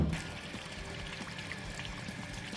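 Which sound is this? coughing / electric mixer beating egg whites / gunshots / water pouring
water pouring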